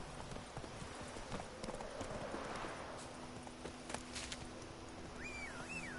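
Horse hooves from The Witcher video game, a quiet steady clip-clop of hoofbeats approaching under faint game ambience, with a short rising and falling tone near the end.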